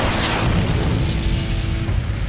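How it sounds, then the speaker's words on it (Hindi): A heavy cartoon boom from a steel cannon attack in an animated car power battle rolls out loud and dense, a sustained low blast with a faint ringing tone underneath that holds and then eases off. "ये लो, एवान स्टील कैनन आक्रमण!"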